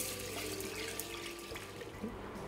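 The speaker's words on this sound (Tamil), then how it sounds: "இதை ஒரு தண்ணி ஊற்றி நல்லா கழுவிக்குங்க." Water runs and splashes as chana dal and moong dal are rinsed in a kitchen while preparing kalyana kootu, a continuous close trickle and slosh.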